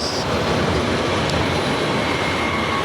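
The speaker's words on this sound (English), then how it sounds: "it's a big street tram" A big street tram passes on a busy nightlife street in Berlin. It sends out a loud, steady rumble and rush of wheels on rails for about three seconds, close by, with no talking.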